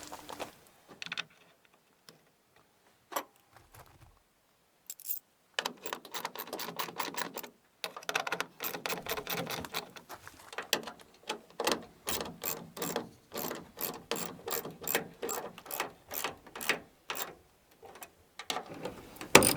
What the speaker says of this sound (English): We'll go ahead and reinstall those 2 8mm bolts.